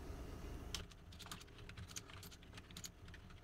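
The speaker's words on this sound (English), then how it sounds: "I'm going to type something out here." Keys clatter on a computer keyboard, a quick run of light, faint clicks typed in irregular bursts close by.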